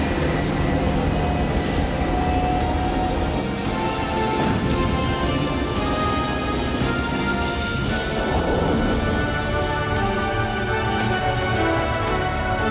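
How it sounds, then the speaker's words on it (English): A spacecraft lifting off in a 1993 science-fiction film set in a cavern, a dense, loud, continuous roar of thrusters and rumbling machinery that fills the whole scene without letting up. "Activate side thrusters at full, Estrella. Side thrusters on. Devon? We have liftoff, Captain."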